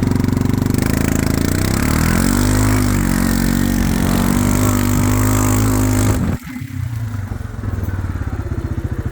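A Suzuki King Quad 400 ATV in two-wheel drive and high gear revs hard and steadily for several seconds while spinning its tires, then the engine note drops off abruptly and settles to a lower rumble; close and loud.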